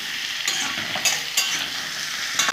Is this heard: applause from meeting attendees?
no